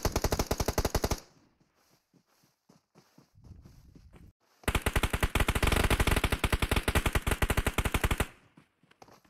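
Loud automatic gunfire from a shooting video game comes in two long, rapid bursts separated by a few seconds of scattered quieter shots and noise.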